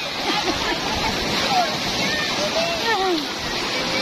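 Strong waves surge and splash in a steady, close wash of water during a relaxing getaway with friends, while voices chatter and exclaim over the noise.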